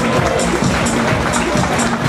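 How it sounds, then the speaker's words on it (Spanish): Dinner audience at an Italian community centre claps to vote for a contestant, a dense, steady wash of hand claps and crowd noise filling the whole stretch with no pauses. "Adelante, por favor, el aplauso"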